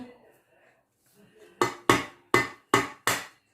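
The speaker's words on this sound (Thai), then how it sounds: "ไข่ไก่ตอกลงไปนี่เลยพี่น้อง" Five sharp cracks ring out in a quick, uneven sequence as a chicken egg is tapped against a hard edge, following a few faint murmured sounds.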